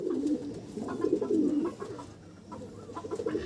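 Female Madrasi flying pigeons coo close by in a low, rolling series of throaty calls that repeat in short bursts, with no voices.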